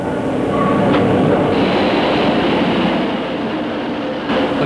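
A Kobe, Japan municipal subway train rumbles steadily along the rails, loud and close, with a continuous hum and faint rhythmic wheel clatter.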